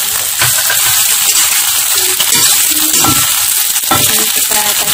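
Tofu pieces frying in hot oil in a pan, giving a steady, close crackling sizzle with occasional brief clatters from stirring; no voices are heard.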